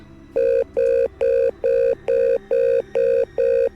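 A telephone rings in a horror video game, seven evenly spaced electronic ring pulses, loud and close, with no talking.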